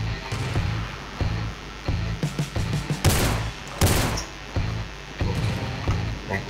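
Bursts of gunfire in the PC game Rules of Survival crackle in rapid volleys, with sharp loud shots around the middle, over a steady low game-engine rumble.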